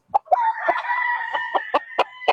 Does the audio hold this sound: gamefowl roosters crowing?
yes